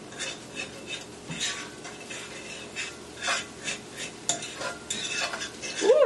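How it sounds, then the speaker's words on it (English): A fork stirs and scrambles eggs in a pan, giving repeated scraping and clinking strokes of metal against the pan with a faint sizzle underneath, at close range and with no talking. "just stir it until you have it nice and scrambled"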